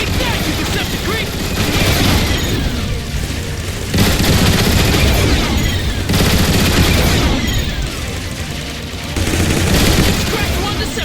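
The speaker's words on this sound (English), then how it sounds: "I think you can take them out with the gun emplacements." Turret gun emplacements in Transformers: War for Cybertron fire at Decepticon Seekers in loud, rapid, sustained bursts. The barrage comes in heavy waves with brief lulls between volleys.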